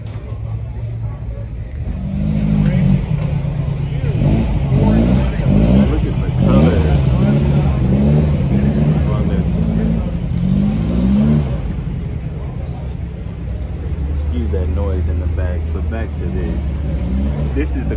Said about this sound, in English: Porsche GT4.